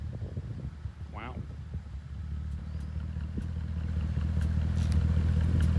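A Mercedes C63 AMG with a Eurocharged tune rumbles low and deep, its engine swelling steadily louder toward the end, with a voice heard briefly over it near the start.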